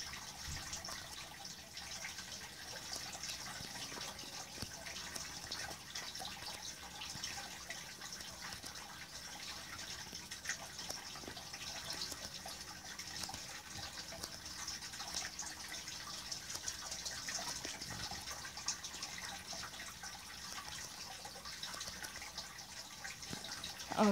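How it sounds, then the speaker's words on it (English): Continuous rushing flow of a river in a survival video game, a steady broadband wash of water running alone at moderate level without breaks. "And here's the river."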